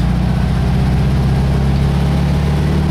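Car engine pulling steadily in third gear, a loud, constant low drone close by with no voices.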